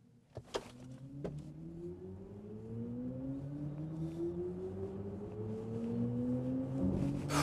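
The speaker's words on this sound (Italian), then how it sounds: "direi che possiamo fare chiudere questa parte di guida della BMW X con un'ultima accelerata" The BMW iX electric SUV accelerates hard, its motor whine climbing steadily in pitch over several seconds, with road and tyre noise building underneath and a couple of sharp knocks near the start.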